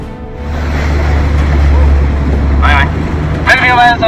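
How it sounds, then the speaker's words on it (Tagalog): Hovercraft engines drone at sea in the South China Sea. A loud, steady, low roar runs throughout, with voices heard over it toward the end. "inalabas din nila ang 2 hovercraft na sa lakas pa lang ng makina ay kaya nang magpataob ng rubber boat"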